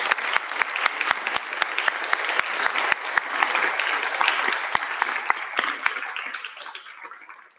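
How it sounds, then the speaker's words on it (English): An awards ceremony audience claps in a steady round of applause with sharp individual claps standing out, loud and close, fading off toward the end. "Can we please give Annie, Henry, and Siobhan a massive round of applause?"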